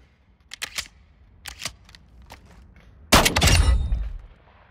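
Gunfire in Call of Duty: Modern Warfare 2, with a few sharp separate shots early on, then a louder, sustained burst near the end.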